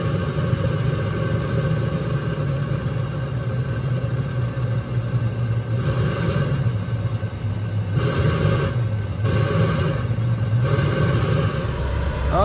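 A diesel heater runs with fuel burning in its exhaust instead of the combustion chamber, giving a steady loud roaring rumble with a faint high whine above it and no talking.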